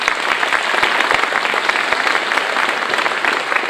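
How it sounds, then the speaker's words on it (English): Loud, dense applause from an audience at a Hidalgo County State of the County address, honoring the County Commissioners Court, steady sustained clapping filling the whole stretch with no talk over it. "let's give our entire County Commissioners Court a big round of applause"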